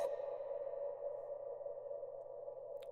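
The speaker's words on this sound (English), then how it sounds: "That's a long reverb," A tonal gnome noise from a game, smeared by a very long reverb tail, rings steadily for several seconds with a sustained mid-pitched tone and faint higher shimmer, alone with no talking.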